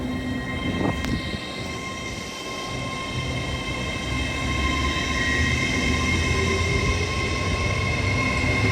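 A train pulls away from Hitchin station on the East Coast Main Line, a steady rumble of wheels and carriages that grows a little louder as it departs, with a brief tonal squeal near the start and no talking.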